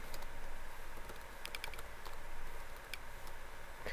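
Fast typing on a computer keyboard, a steady patter of light key clicks at moderate level over a constant background hum, with no voices.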